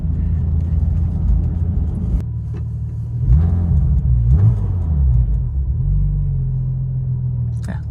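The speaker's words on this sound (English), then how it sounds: "Yeah, little revs. Little baby revs." Low engine rumble from inside a Porsche 996 Turbo fitted with a Fabspeed Gen 1 exhaust and 100-cell cats, with a few gentle revs rising and falling in pitch, steady and fairly loud throughout.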